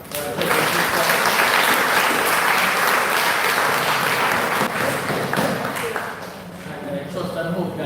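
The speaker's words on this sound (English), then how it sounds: "I want to give this Matali a hard round of applause" Audience applause fills the room, a loud, sustained roar of many hands clapping that eases and dips briefly near the end before swelling again.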